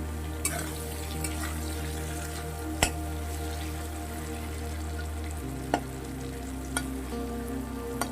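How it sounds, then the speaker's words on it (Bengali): Onion frying in a pan for a bholamas fish dish, a steady low sizzle and hum with occasional sharp clicks and taps of stirring, fairly quiet and continuous. "তো পেঁয়াজটা একটু ভেজে নেব"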